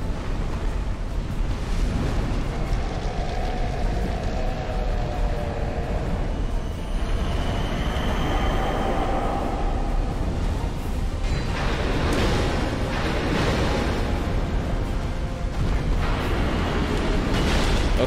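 A loud, continuous explosive roar from the video game Dark Souls II, with a heavy rumbling wash of noise that holds steady for the whole stretch, with no voices over it.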